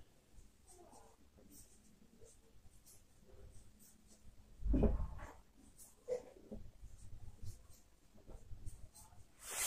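Pen or marker writing out a definition on a board or paper, soft scratchy strokes at a low level, with one louder bump midway and faint background noise throughout.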